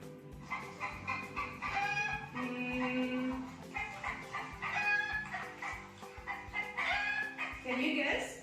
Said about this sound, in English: Yes, it is chicken. Chicken. This is chicken.